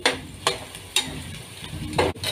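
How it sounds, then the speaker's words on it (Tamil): Chopped onions sautéing in a pan for chicken biryani, a steady soft sizzle with a few sharp scraping stir strokes spaced through it, close and alone. "இது நல்லா வதங்கட்டும் வெங்காயம்"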